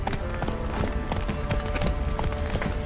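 Geralt's horse Roach trotting in The Witcher 3, a steady, close clip-clop of hooves with a regular rhythm over constant background ambience.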